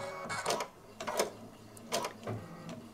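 Embroidery machine stitching a quilting background pattern, with repeated bursts of mechanical whirring and tapping roughly every second at close range and moderate loudness, and no talk.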